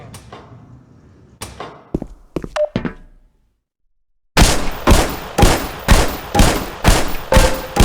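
Pistol shots at targets on a shooting range in the video game Black Mesa: a few scattered shots, then after a brief silence a loud rapid string of about seven evenly spaced shots.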